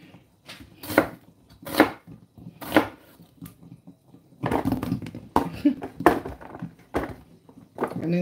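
A knife chops through an onion on a board in a home kitchen, a few sharp separate thunks at first, then a quicker run of cuts with light clatter, close and moderately loud.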